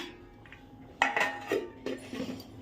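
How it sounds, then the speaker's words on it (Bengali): Metal lid set onto a pot of simmering fish curry, making a few light clanks and clinks up close. "মাছটা দিয়ে দিয়েছি ঝোলটা ফুটুক ঢেকে দিলাম"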